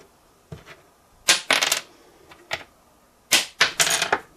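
A bone guitar nut falls onto a hard surface and bounces several times. The bright, clattering clicks come in quick bursts across a few drops, close and fairly loud, with no voices.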